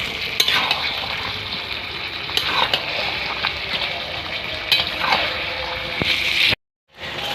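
Chicken kosha frying with cashew paste just added: a steady loud sizzle with stirring scrapes, briefly cut to silence near the end.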